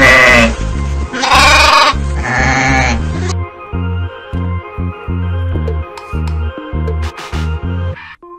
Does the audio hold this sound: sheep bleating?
yes